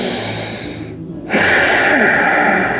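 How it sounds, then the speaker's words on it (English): A deep breath is drawn in and let out during a workout cool-down, loud and close like a steady whoosh. A brief pause breaks it, then a stronger exhale follows. "And we're taking deep breaths."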